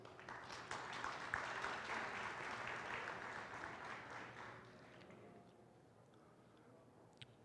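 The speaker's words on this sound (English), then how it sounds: "so give them a round of applause." A round of audience applause for student volunteers at a women's exhibition and fundraising event, steady and dense, then fading to quiet over the last two seconds.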